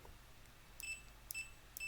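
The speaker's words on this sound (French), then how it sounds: "Jusqu'à ce que ça bip et je saurai où j'ai une masse" A multimeter in continuity mode beeps three times in short, evenly spaced chirps while probing a connector for ground during a PC build, faint over low background hum.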